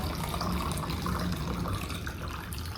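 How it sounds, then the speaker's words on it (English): Elderberry liquid poured through a medium mesh sieve, heard as a steady, close, continuous splashing pour that holds at an even loudness throughout and tapers only slightly at the end. "Pour all of that yummy goodness in there."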